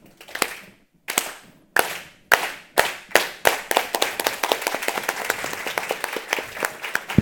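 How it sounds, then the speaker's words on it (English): A crowd performs a unity clap, beginning with single slow, sharp claps spaced about a second apart that steadily accelerate into a rapid, continuous rhythmic clapping. "it's just going to be a unity clap"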